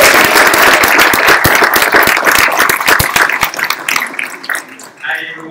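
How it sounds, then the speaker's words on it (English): Audience applause welcoming a speaker at a KAIST event in Mexico, a dense, steady wash of many hands clapping that tapers off over the last second or so. "please welcome him with a big round of applause"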